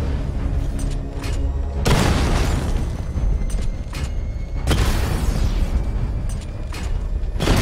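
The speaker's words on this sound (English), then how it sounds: "Destroy targets to charge up weapon energy and activate missile barrage." Missile barrage explosions in Batman: Arkham Knight: loud, dense booms rolling almost without pause, with two sharp new blasts cutting in partway through.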